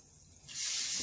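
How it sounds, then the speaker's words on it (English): Tap water runs into a kitchen sink. It starts as a faint hiss and, about halfway through, swells into a steady, loud spray. No one speaks. "now we're at the kitchen sink, and I am going to try adding some soapy water"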